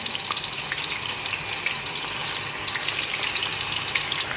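Chicken frying in hot oil on a flat tawa pan gives a steady, close, crackling sizzle that holds evenly throughout with no talking.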